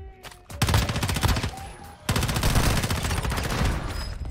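Rapid automatic gunfire from the mobile shooter Warzone Mobile rattles in two loud, sustained bursts, the second longer, with a faint voice in the background.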